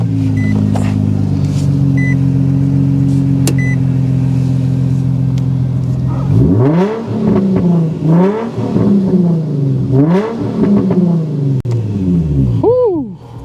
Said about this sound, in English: Just a couple of revs so you guys can hear what I'm talking about